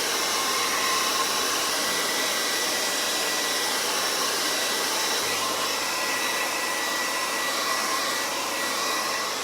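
A hair dryer blows steadily at close range over acrylic paint, a loud continuous whoosh with no pauses or talk for the whole stretch.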